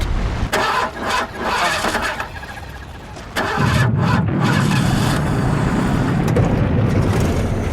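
A cartoon spaceship's engines crank with a few sputtering bursts, then catch and settle into a steady, loud, close rumbling drone with no talk over it.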